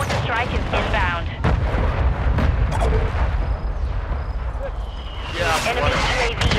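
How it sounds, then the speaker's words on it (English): Mortar strike explosions rumble in an Activision military video game, with heavy booms and debris bursts layered under a dense battle soundscape and radio-style voice callouts. "Our mortar strike is inbound."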